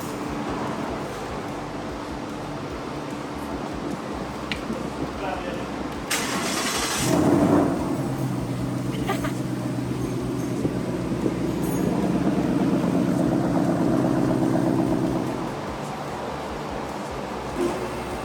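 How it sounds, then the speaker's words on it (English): A car engine fires up after an oil change and idles for several seconds with a steady low rumble, then shuts off, amid shop background noise. "we're gonna start it up, run it for a couple seconds"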